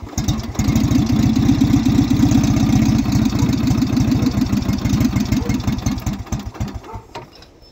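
Engine on an old, long-neglected YardPro riding mower cranking and catching on a cold start, with a fast, loud chugging pulse that runs steadily for several seconds and then slows and fades as it dies down.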